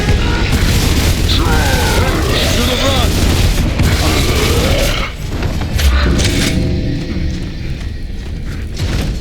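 A grenade explodes in the Gears of War: Judgment video game with a loud, sustained booming rumble that fills the scene, while voices and game effects sound over it before the blast fades into lower rumbling.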